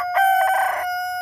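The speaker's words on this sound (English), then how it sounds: "You don't have to crow so much." An American Bresse rooster crows once nearby, a loud, harmonic cock-a-doodle-doo rising then trailing off, with a steady background hum.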